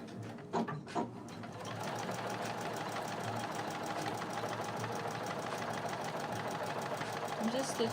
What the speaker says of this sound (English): I'm just stitching along my stitch line. I'm gonna stitch like in the ditch here just to reinforce this side of my welt.